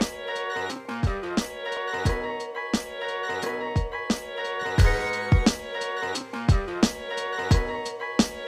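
A steady drum loop programmed on an MPC Live from an expansion plays without maximizer or compression, its punchy kicks and crisp hits recurring over sustained melodic tones, up close with no voices.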